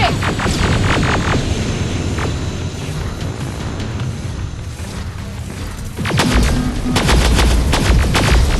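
Rapid automatic gunfire in the first-person shooter Terminator: Resistance: dense bursts of loud rifle shots and booming impacts. The firing is heavy at the start, eases through the middle, then returns in sharp repeated cracks near the end.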